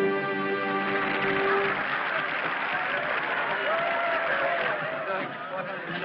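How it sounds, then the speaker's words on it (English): A crowd claps in sustained applause, loud at first then gradually thinning, with voices and a held musical note near the start. "They're still applauding."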